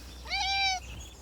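A single short, high-pitched meow from a small cat rises and falls once over a faint outdoor background hum, with birds and a stream nearby during a morning walk, followed by quiet.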